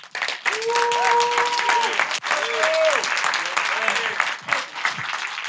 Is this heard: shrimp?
no